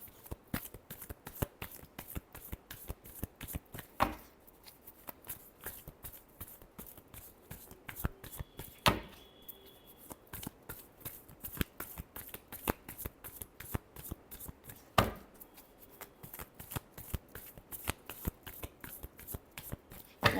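Tarot cards being shuffled by hand in rapid, repeated riffling bursts, close and crisp, with a few sharper snaps and slaps as the deck is cut and squared, no talking.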